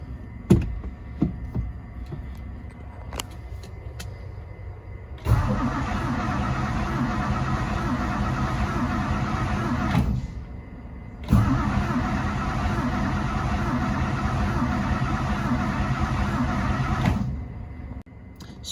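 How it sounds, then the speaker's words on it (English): A 1963 Mercury Monterey engine cranking over in neutral, two long loud bursts of steady starter whirring separated by a short pause, close and without talk. "So we have cranking in neutral, which is a good thing."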